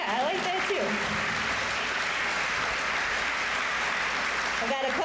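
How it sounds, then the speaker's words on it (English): A crowd claps steadily through an end-of-summer celebration for a youth program, with dense, sustained applause that fills the whole stretch, and brief voices at the edges. "Yeah, let's applaud for that."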